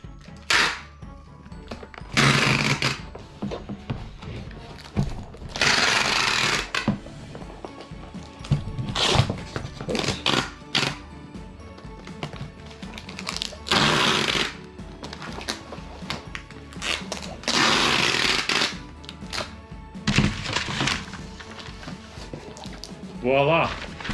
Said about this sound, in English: Grab your trusty tape. And then fully tape up the box.